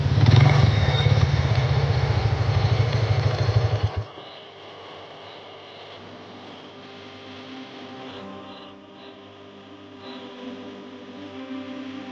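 A motorcycle engine runs loud and close with a steady buzzing drone, then cuts off abruptly, leaving a quiet room tone with faint background hum.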